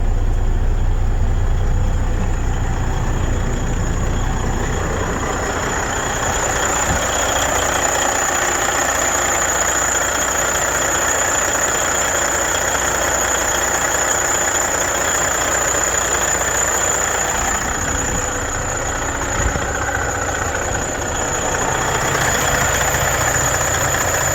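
A T20D0070 machine's engine idles steadily, a loud and even low rumble with a constant whine. It runs alone for about twenty-four seconds, with no talk.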